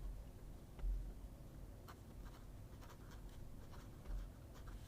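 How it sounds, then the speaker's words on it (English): A fountain pen nib scratches faintly across paper while writing in reverse, giving soft intermittent strokes and light taps, quiet and close, with no speech. "Reverse writing."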